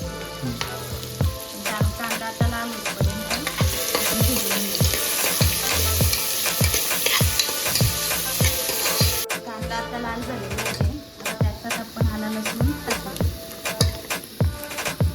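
Ginger-garlic paste fries in a pan for a spicy mutton-vajdi masala, with a steady sizzle under repeated, rhythmic scraping strokes of stirring, close and continuous.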